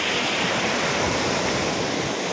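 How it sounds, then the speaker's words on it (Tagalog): Rain-swollen stream in a village neighborhood after heavy rainfall, a loud, steady broadband rush of flowing water with no breaks and no voices. "maganda ang daloy ng tubig"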